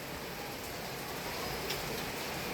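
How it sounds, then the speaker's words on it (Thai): Steady rain falls on a sixth-floor balcony garden in Chiang Mai at about six in the evening, a soft, even hiss held at low level throughout with no other sounds rising above it. "ตอนนี้นะครับวันนี้ฝนตกนะครับ"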